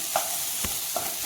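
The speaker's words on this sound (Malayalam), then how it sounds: "ഇനി നമ്മൾ കുറച്ച് ഫ്ലെയിം കൂട്ടി കൊടുത്തിട്ട് ഒന്നും കൂടി നന്നായിട്ട് ഇളക്കുക" A spoon scrapes through tomato and onion masala for soya roast in a sizzling pan, three quick stirring strokes over a steady close frying hiss.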